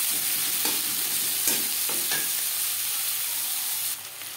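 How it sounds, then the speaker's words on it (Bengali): Onions fry in a pan, a loud continuous sizzle with a few scraping stirs of a spatula, alone without voices, the hiss dropping slightly near the end. "পেঁয়াজ ভাজা হয়ে গেছে।"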